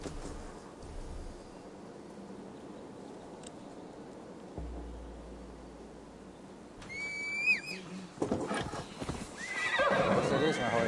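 A horse in a PS4 video game approaches after being called, with a sharp whinny about two-thirds through, followed by clopping hooves and movement noise that grow louder toward the end.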